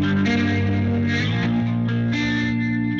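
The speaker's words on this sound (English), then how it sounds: "I'm thinking I'm going to run it through a guitar amp" A guitar sample played through a guitar amp plugin gives a steady, distorted, effects-heavy tone with chorus-like shimmer. It rings continuously for about three seconds with no voices.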